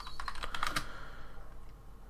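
Quick bursts of computer keyboard typing, a run of close crisp key clicks that fades into quiet room tone.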